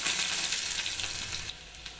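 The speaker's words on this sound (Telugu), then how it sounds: "నేను పోపు పెట్టుకోవడానికి ఆయిల్ పెట్టుకున్నాను. ఇందులోకి ఎల్లిపాయ వేస్తాను" Garlic fries in hot oil for a tempering, giving a loud, steady, hissing sizzle that eases slightly partway through.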